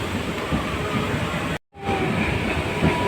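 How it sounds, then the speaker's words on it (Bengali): Inside a passenger train on the Bangaon line in West Bengal, a loud, steady rumble of running carriages with faint rattling, cut briefly by a momentary dropout before the roar resumes. "আমরা এখন ট্রেনে বসে আছি"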